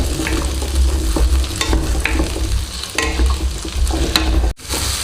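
Tomato and onion sautéing and being stirred in a pan for Chettinad chicken gravy, a steady close sizzle with repeated scraping stirs and clinks throughout, no talking.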